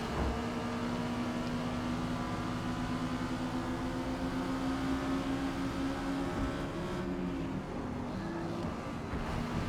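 A B-class Exocet race car in Forza Motorsport at Laguna Seca holds a steady engine drone at sustained revs, with a slight pitch change near the end, continuous and moderately loud, no talking.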